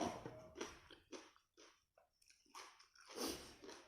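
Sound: crunchy biting and chewing of crispy food

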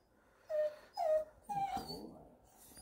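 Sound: puppy whimpering

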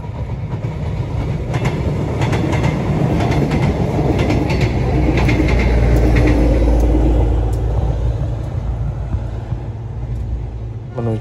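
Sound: airport passenger train passing by

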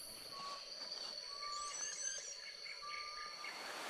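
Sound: frog calling during rain in Uganda

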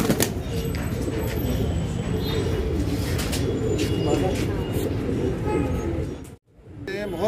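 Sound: Saharanpuri cross Bajre pigeons cooing

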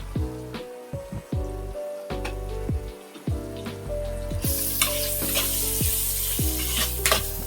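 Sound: frying turmeric and chili powder in a pan

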